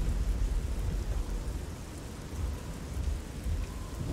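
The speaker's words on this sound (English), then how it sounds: "forgot how loud the rain was." Heavy rain pours in a Fallout 3 game scene, a dense, loud, continuous hiss layered over a deep rolling rumble of thunder.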